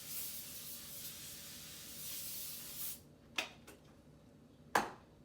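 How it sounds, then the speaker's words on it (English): A steady aerosol spray of non-stick cooking spray onto a pan hisses for about three seconds, then stops, followed by two sharp clicks or taps against a quiet background. "non-stick spray always helps."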